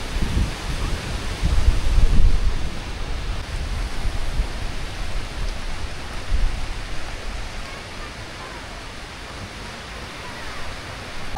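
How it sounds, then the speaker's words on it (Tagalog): Steady hiss of rain with gusty wind on Boracay, a dense broadband wash that swells early on and then settles to a constant downpour. "Literal na umuulan."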